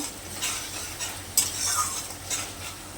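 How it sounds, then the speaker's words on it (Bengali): Pointed gourd with spices is stirred and sautéed in a pan for doi potol: steady scraping strokes over a soft, continuous sizzle, close and moderately loud, with no talking. "এবারে আরও ভালো করে সুন্দর করে কষাবো"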